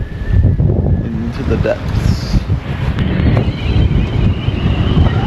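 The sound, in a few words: strong wind and waves while sailing a boat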